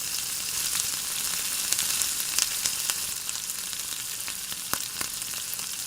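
Masala for besan chilla curry sizzles steadily as it is sauteed in a pan, a constant bright hiss with scattered small crackles and occasional stirring taps, close and even in level.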